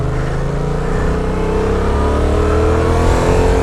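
A 2015 Yamaha FZ-07 motorcycle pulls away and accelerates, its engine note rising steadily under heavy wind rush, loud and close throughout with no talking.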